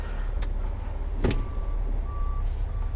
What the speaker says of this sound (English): Backup beeper, of course.